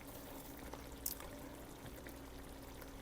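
Starchy pasta water poured into a simple tomato sauce, a soft steady liquid pour running through the whole stretch with a brief splashy burst near the middle, fairly quiet and heard alone.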